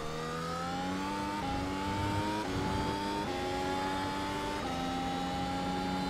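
A Mercedes F1 car from 2021 revving in the iRacing sim, its high engine note climbing through repeated gear changes, a steady, loud whine that shifts pitch in steps with no voices.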